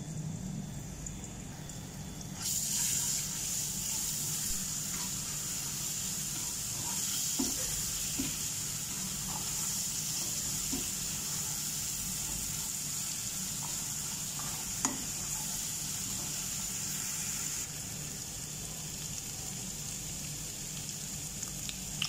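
Ginger garlic paste sizzles in a pan for kadai paneer, a steady, faint hiss of frying with occasional small pops and light stirring taps.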